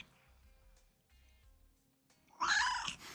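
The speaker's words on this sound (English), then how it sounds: "I don't know if you folks can hear her meowing." Quiet, low purring gives way to a loud, drawn-out cat meow near the end, close to the microphone.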